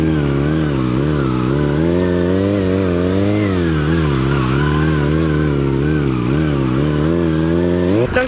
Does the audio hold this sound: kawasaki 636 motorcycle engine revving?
yes